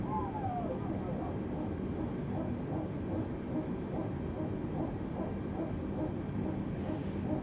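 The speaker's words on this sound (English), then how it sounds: "I absolutely love those hydraulic noises. It's just my favorite sound on the Airbus." Airbus A320neo hydraulic whine and cabin rumble during engine start in Microsoft Flight Simulator 2020, a steady low drone with a brief rising tone at the start and faint wavering hum throughout.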